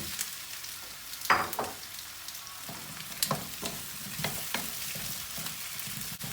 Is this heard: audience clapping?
no